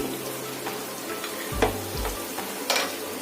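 Spices and potatoes for spine gourd (kakrol) curry sautéing in a pan, a faint steady sizzle with a few soft stirring scrapes and clinks, quiet and close.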